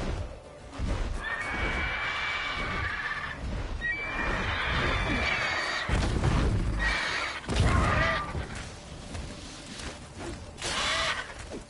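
A horse in The Witcher 3 video game neighs and whinnies repeatedly, loud and close, with hoof clip-clops and game ambience between the calls.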